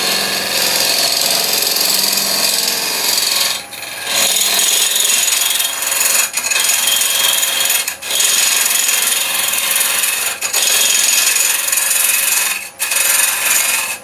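Wood lathe cutting a hard resin and elm bowl blank, a loud, harsh, continuous scraping rasp. It runs steadily with a few brief dips where the tool lifts off.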